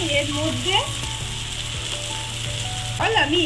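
Mince sizzles steadily in hot oil, a constant crackling fry, with a couple of scraping stirs near the start and end.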